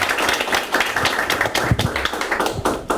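A small gathering at a Korean Green Party candidate debate claps for the next candidate, the irregular, close-sounding hand claps loose and uneven rather than a full ovation.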